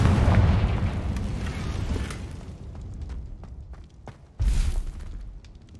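A Confringo fire spell explosion in the Hogwarts Legacy video game: a loud, heavy boom with a low rumble that fades over a few seconds, then a second sharp blast near the end.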